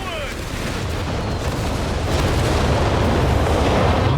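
Nebelwerfer rocket artillery firing in a Company of Heroes 3 2v2 match, a dense, continuous rumbling roar of launches and blasts that holds steady and grows slightly louder throughout, with layered battlefield noise and no clear gaps.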